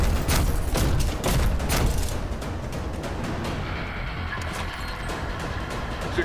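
Swarm missile explosions in the Call of Duty: Advanced Warfare video game, a rapid volley of loud booming blasts over the first two seconds that trails into a dense, rumbling, crackling aftermath.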